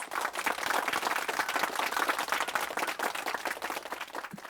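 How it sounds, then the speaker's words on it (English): Warm applause from an audience at an oncology talk welcomes a physician to the stage, a dense, close patter of clapping hands that continues steadily throughout. "Please give him a big, warm welcome applause."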